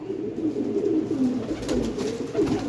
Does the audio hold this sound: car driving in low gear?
no